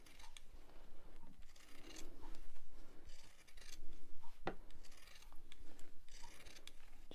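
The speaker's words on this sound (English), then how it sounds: "I'm now going to use pinking shears again. You don't have to, I just like the design that it gives. So I'm going to cut around that circle." Pinking shears snip steadily around a thick felt circle for a Christmas decoration, giving close, repeated crunching cuts with a sharp click partway through and no talking.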